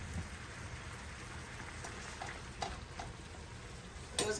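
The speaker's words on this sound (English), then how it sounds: "Gonna be adding all the shrimps so they all can cook." Shrimp going into a hot pan for seafood spaghetti, giving a steady close-up sizzle and crackle with a few sharper pops and spatters partway through and near the end.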